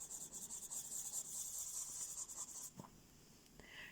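A pastel pencil rubbed firmly into paper, with a close, continuous scratchy rubbing that stops near the end and leaves a couple of small taps and quiet handling, no talking.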